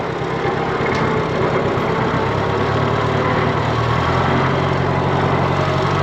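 A Volkswagen Beetle engine held at its slowest speed, a steady low rumble running unbroken and close, with no talk over it.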